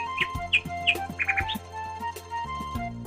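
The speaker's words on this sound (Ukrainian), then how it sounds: "це спів пташок." Spring birdsong outdoors: several quick, high chirps and short trills follow one another in a lively, irregular rhythm, clear and fairly close.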